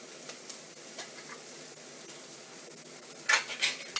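Onions frying in a pan for a basic pasta sauce, a quiet steady sizzle with a few light clinks of utensils against the pan, louder scraping stirs near the end.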